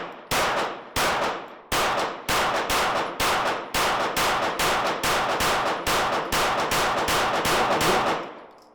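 A striker-fired pistol fires about fourteen loud, sharp gunshots in a steady rhythm, roughly two per second, each shot ringing briefly before the next. The shots come close up and alone, with no talk.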